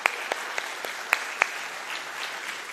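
An audience at the City of Boynton Beach, Florida State of the City Address gives a brief round of applause, scattered distinct claps over a soft sustained patter from the crowd.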